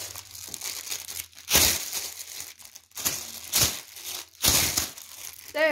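Stiff plastic packaging from pop-it toys crumpled and torn up close: dense crinkling with several loud, sharp bursts of crushing and ripping, a faint voice at the very end.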